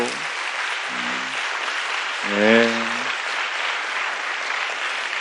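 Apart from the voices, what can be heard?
audience applause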